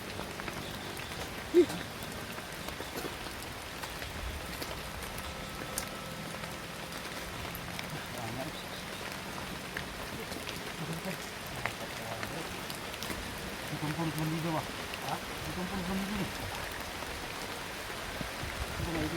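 Steady, soft rain patters continuously, a faint even hiss with occasional drips and some distant low murmuring underneath.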